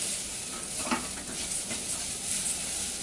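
Rice fries and is stirred in a hot pan, a continuous close sizzle with soft scraping strokes from the stirring, steady throughout with no voices.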